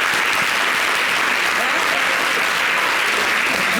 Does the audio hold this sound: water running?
no